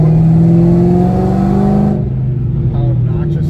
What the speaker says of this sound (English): Figured I'd just let you guys hear the exhaust note.